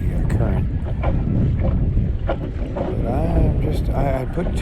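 A small boat pushed by a Minn Kota 50 motor moves against the current on a crabbing trip around Poquoson, a steady low hum with wind and water noise, while someone talks over it.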